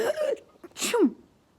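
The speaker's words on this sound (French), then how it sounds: "un nuage de poussière me fait éternuer" A single sharp sneeze, a quick intake followed by an abrupt burst, close and clear in an otherwise quiet space.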